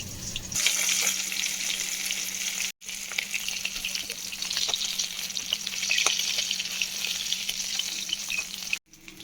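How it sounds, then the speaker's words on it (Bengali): Fish frying in hot oil, a loud, dense, continuous sizzle with a couple of brief cutoffs, close by and without talk. "মাছগুলো আমার এবার ভাজা হয়ে গেছে"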